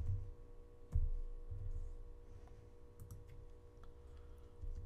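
Light typing on a computer keyboard, scattered soft key clicks at an uneven pace over a low steady hum, faint and close with no speech.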